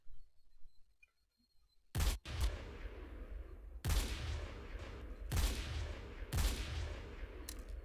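Rapid bursts of video-game gunfire from M9K addon weapons, several sharp loud shots spaced irregularly over several seconds with echoing tails, no talking.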